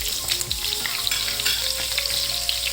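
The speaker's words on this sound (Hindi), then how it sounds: "अब इसके अंदर मैं आलू डाल दूँगी।" Sliced potatoes, washed and added to hot oil with cumin for achari aloo, frying with a steady, dense sizzle and crackle that stays close and fairly loud throughout, with no one speaking.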